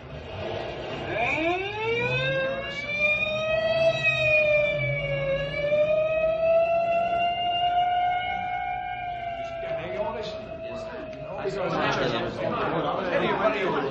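An ambulance siren in an old-time radio drama rises into a long, steady wail that holds loud for most of the clip, with voices talking beneath it and a burst of noise near the end.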